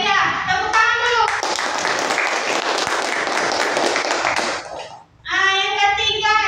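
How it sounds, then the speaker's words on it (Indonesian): Children in a classroom burst into loud, dense hand clapping for a few seconds, then the applause stops abruptly, followed by a short pause and children's voices chattering. "tepuk tangan dulu"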